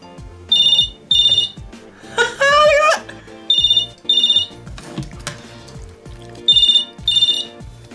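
A Radio Shack Mini-Fone 43-817 telephone rings loudly in repeated short electronic bursts with a warbling tone in between, pausing and resuming, while a voice and other background sounds are faintly heard underneath.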